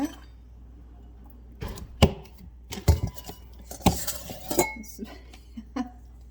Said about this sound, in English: Now we grab half a cup of